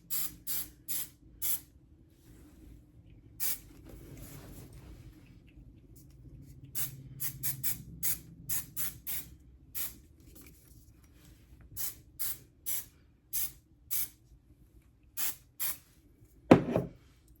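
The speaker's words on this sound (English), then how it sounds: "I've been using the Aussie Instant Freeze hairspray" Aussie Instant Freeze hairspray sprayed onto a set of curls in short, sharp hissing bursts, about two dozen quick spritzes in irregular clusters, close and alone, ending with a brief rattle.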